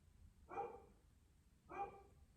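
A pet dog barks twice, about a second apart, each bark short and faint as if from another room, with quiet background hum between.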